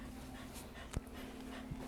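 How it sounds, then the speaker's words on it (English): An Australian shepherd and a border collie pant steadily indoors with a couple of faint whimpers and soft thumps, fairly quiet and close, with no talking. "And, of course, my dogs decide now to go insane."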